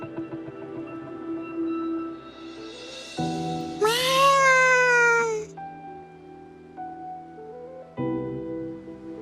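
A white cat in the video game Wuthering Waves gives one drawn-out, bright meow in the middle, rising above steady sustained game music that shifts chords around it.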